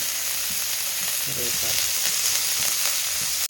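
Mustard seeds, two green chillies and curry leaves sizzle in very hot oil in a kadai, a loud, steady, close frying hiss with faint crackles and no talking.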